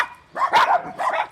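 An adult dog gives two short, high yipping barks close by, in a quick pair with no voices.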